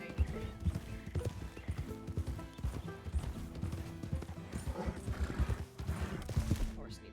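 Zebra hooves clip-clop steadily in Red Dead Redemption 2, a rhythmic run of close, fairly loud hoof strikes with an occasional whinny over game ambience and music, and a voice talks over parts of it.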